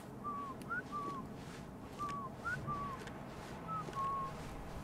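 Repetitive whistling in the game Burden: short, faint two-note whistles recur every half second or so, in paired phrases over a low background hum.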